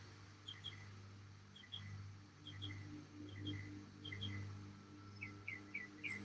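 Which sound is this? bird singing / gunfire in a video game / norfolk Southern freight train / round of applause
bird singing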